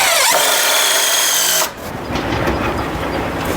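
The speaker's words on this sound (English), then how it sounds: "I'll just drill in some of these same screws from the top" A power drill whines steadily at close range while driving screws into an exterior door frame, then cuts off abruptly and leaves a softer rattling noise.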